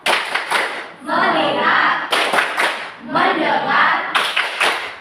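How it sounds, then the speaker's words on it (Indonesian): A group in a classroom performs the tepuk fokus clapping game: sharp bursts of rhythmic, unison hand claps alternate with stretches of group chanting, repeating in a steady pattern, loud and close. "Lanjutkan tepuk fokus."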